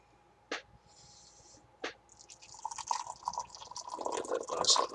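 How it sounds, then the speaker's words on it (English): Boiled kettle water poured from high into a cup to brew tea, a splashing, trickling flow building after two brief drips, filling steadily and growing louder toward the end, with no talk over it. "Get that nice high pour."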